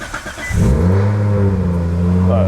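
A Nissan Skyline RB engine cranks briefly and catches, then settles into a steady, loud idle that holds to the end.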